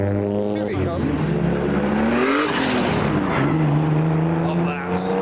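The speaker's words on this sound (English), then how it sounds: "one of the next cars to come is the turbocharged E36" A turbocharged BMW E36 accelerates past at a car meet, its engine note climbing loudly through the gears as it nears and rushes by, with people talking nearby.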